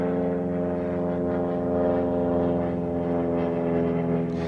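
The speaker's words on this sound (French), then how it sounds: "On s'en fiche de l'hélico." A helicopter flies overhead with a steady, loud, droning engine and rotor hum that swells slightly and then eases, with no pauses.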